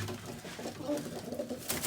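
Soft, muffled pigeon cooing rises briefly from a quiet background, low and a little distant, with no speech.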